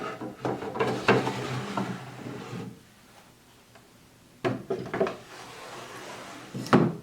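A waxed wooden drawer of a Victorian Eastlake dresser slides back into its frame with rubbing scrapes and knocks, pauses in near silence, then slides and thumps again with a final sharp clunk.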